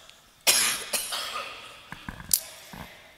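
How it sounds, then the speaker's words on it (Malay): A man gives a few sharp coughs at close range, one strong burst followed by smaller rasping coughs and throat noises. "Ini lu terbatuk"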